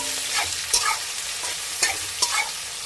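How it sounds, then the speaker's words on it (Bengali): Onions frying in a pan with oil while being stirred, a steady sizzle broken by a few distinct scraping stir strokes, close and fairly loud, with no talking. "পেঁয়াজটা একটু লাল লাল ভাজা হোক"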